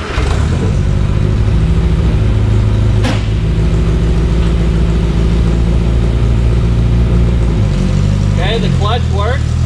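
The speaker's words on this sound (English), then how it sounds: "So let's start up the engine," A 1962 Austin Healey Sprite Mark II engine runs steadily at a loud, close idle with a slight rise in revs partway through, while a person talks over it.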